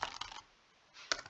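Typing on a computer keyboard: a few quick, soft clusters of key clicks close by, a short pause, then another brief burst of keystrokes, with no talking.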